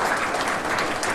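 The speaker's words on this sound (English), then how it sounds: "so give her a round of applause" Steady, dense applause from a town hall audience in Winner, honoring former Agriculture Secretary Kim Banneman; many hands clapping together, sustained and fairly loud throughout.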